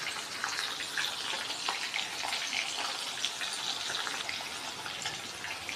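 Chicken pieces deep frying in hot oil for pickle, a steady dense sizzle and bubbling hiss that stays even and close throughout with no voices.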